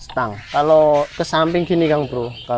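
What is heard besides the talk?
No everyday noise stands out behind the speech.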